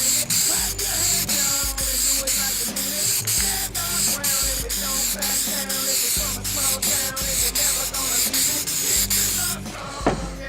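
Krylon UV-resistant clear coat hisses loudly from a rattle can held close, in long spray bursts broken by brief pauses, ending with a short final blast.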